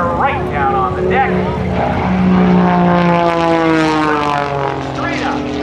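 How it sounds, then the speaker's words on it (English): An Extra 300 aerobatic propeller plane flown by Patty Wagstaff dives at an airshow, its engine droning loud and steady with a rising, shifting pitch as it picks up speed, while a commentator talks over it throughout. "as she flies that Cirrus Extra 300 through the sky"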